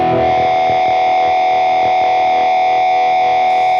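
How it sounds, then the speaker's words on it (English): A loud, sustained guitar tone through a BOSS GT-1000 feedbacker effect, a steady howling feedback pitch ringing over faint picked notes, continuous and dense throughout. "We're just going to engage the feedbacker."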